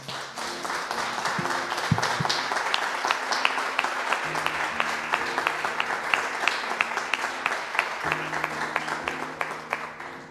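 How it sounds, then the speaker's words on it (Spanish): Church congregation gives a strong round of applause, steady rhythmic clapping from many hands over a sustained organ or keyboard chord that shifts pitch, continuing for about ten seconds. "Dale un fuerte aplauso al Señor."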